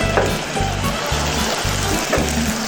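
Julienned onions sweat in extra virgin olive oil in a pan, giving a steady soft sizzle with faint stirring scrapes and a regular low thumping underneath throughout.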